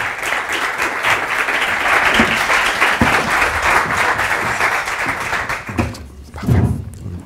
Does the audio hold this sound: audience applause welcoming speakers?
yes